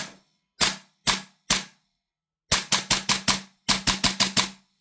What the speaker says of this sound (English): So we're just going to give it a quick test fire.